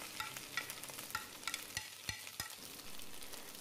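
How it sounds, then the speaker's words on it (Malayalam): Shredded chicken with garlic is sautéed in a pan, with soft sizzling under a series of quick scraping stirs and taps of a spatula, quiet and close. "ചിക്കൻ ഒരു 3 മിനിറ്റെങ്കിലും നന്നായി വഴറ്റണം."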